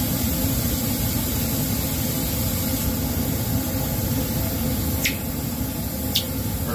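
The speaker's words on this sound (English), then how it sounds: "So we're going to turn on that noisy vacuum." A laboratory vacuum pump running for vacuum filtration with a Hirsch funnel: a loud, steady broadband hiss and hum, unbroken throughout, with two brief faint squeaks near the end.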